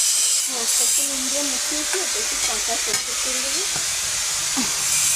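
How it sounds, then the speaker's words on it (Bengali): Fried fish with mustard paste and mango being sautéed in a home kitchen pan, giving a loud constant hiss and sizzle, while a voice or tonal sound with wavering pitch runs through the middle. "মাছগুলোকে ভেজে নিয়েছে সর্ষে বাটা আম সব কষিয়ে নিয়েছে কষা হচ্ছে"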